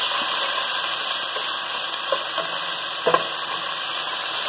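Onions cooking in a pan for chana masala, a gentle continuous sizzle with a few light stirring clicks and a faint steady hum in the background, no voices.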